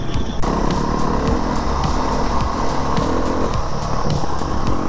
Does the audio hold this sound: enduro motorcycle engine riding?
yes